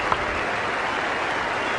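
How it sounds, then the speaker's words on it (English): A large cricket crowd at the Sydney Cricket Ground applauds an Indian batsman, VVS Laxman, leaving the field after a long innings, with a dense, steady roar of clapping that stays loud and even throughout. "He's getting a terrific hand from the SCG crowd."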